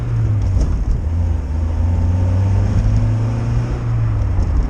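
A Mazda MX-5 NA convertible's engine hums steadily at low pitch as it cruises with the top down, with continuous road and wind noise and no voices.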